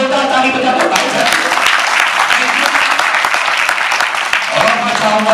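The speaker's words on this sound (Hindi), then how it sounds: "भाई अरे जोरदार ताली बजा दो भाई सर" A seated audience at a felicitation event for cancer patients and students breaks into sustained, loud applause, a dense wash of clapping that holds steady throughout, with a voice partly audible over it.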